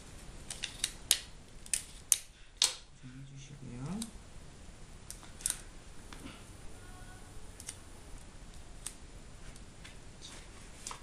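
Clear tape being pulled and pressed to fix a metal washer onto a small ground-effect craft model, heard as a series of sharp close clicks and crackly taps spread unevenly over several seconds, with soft handling noise between them.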